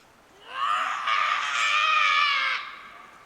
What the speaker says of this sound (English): that screaming dinosaur sound was actually a couple kids on bikes